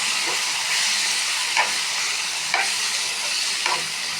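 Chili masala frying with a loud, steady sizzle and hiss in a pan, with a few soft scrapes as it is stirred.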